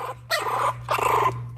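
A tiny Yorkie puppy growls in two short rasping bursts close by, surprisingly fierce for its size, separated by a brief pause, with no talk over it.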